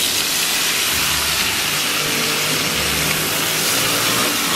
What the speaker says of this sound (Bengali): এরপর এই তেলটার মধ্যে দিয়ে দেবো ম্যারিনেটেড এঁচোড়টা।